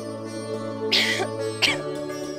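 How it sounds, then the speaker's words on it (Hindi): Two short, harsh coughs a moment apart, close by, over a steady low hum. "तुम्हारी खांसी बहुत बढ़ गई है ना?"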